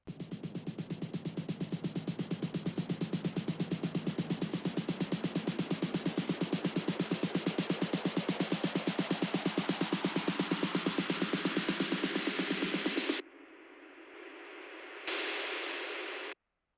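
A rapid tech house snare build roll drives steadily for about thirteen seconds, then drops out to a thinner sweeping tail and a brief final burst before stopping.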